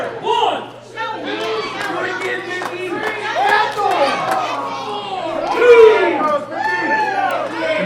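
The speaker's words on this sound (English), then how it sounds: "And the crowd's loving this." A wrestling crowd at a live show cheers and chatters loudly and without a break, with shouts rising and falling and a peak of yelling near the end, mixed with excited commentary voices.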